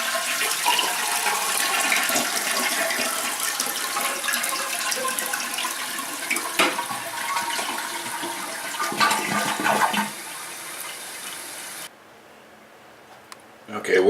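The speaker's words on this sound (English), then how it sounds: "the first thing you want to do is to flush the toilet" A household toilet being flushed during a repair job: a loud rushing gush of water that churns for about ten seconds, then drops away to a quiet trickle as the tank refills, with a bump near the end.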